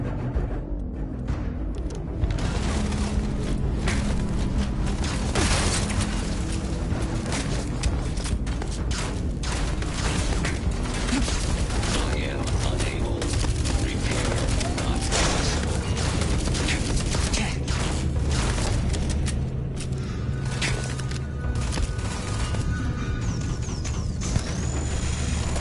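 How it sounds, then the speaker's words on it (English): Sustained gunfire in the space role-playing game Starfield, a dense, loud barrage of shots and booms with mechanical clatter running almost unbroken throughout. "I am opening fire"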